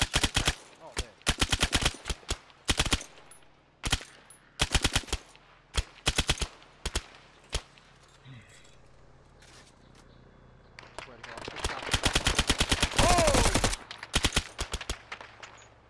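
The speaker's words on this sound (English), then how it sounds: "I don't even know where the fuck you guys are shooting at." Squad gunfire in a military shooter game skirmish at an oilfield: repeated bursts of rapid automatic fire, loud and close, in clusters with short gaps and a long sustained volley near the end.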